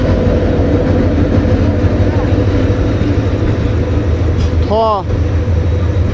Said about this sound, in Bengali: এই যে আর একটা ট্রেন আসলো